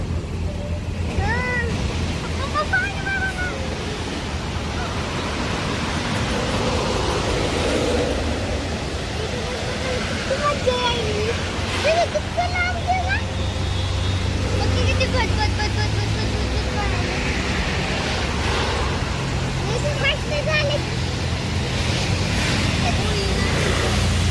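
A steady, broad roar of rushing water fills the scene at Bindusara dam in Beed, constant throughout, with a child's and adults' voices chattering over it.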